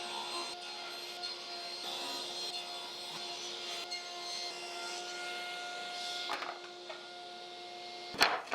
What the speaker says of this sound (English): Let me first rip a couple of strips and then we'll see.